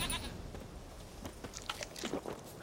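Goat bleating in The Witcher 3, a few short bleats with some crunchy chewing sounds, moderately close against a soft ambient background.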